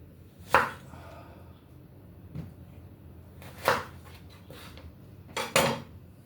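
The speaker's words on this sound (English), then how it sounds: "Now, I'm chopping up some pumpkin." A knife chopping pumpkin on a board, a few sharp separate cuts and clacks spaced several seconds apart against a quiet kitchen background.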